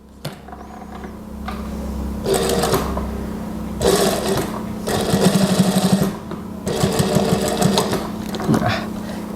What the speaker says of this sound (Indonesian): Oke, bentar, tak jahit.